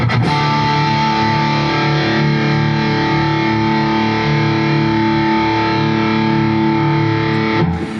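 A distorted electric guitar chord from a headless guitar through Neural DSP ring out loud and sustained, holding steady for several seconds before cutting off near the end.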